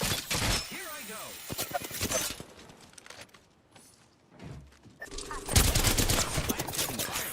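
Bursts of rapid automatic gunfire and single shots from an Apex Legends ranked match, loud at the start and end with a quieter stretch between, mixed with game effects.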